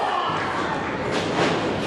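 A crowd roars and swells at a tag-team wrestling match while a clothesline lands with a dull thud, the noisy arena din staying loud from start to finish.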